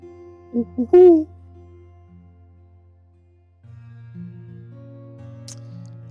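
Loud, close hoots from an owl, three quick calls in a row, followed by quieter low humming tones and a steady background drone.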